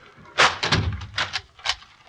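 A kitchen door shuts and locks in a radio drama: a sharp thump followed by a few quick, close knocks and metallic clicks of the latch, heard alone.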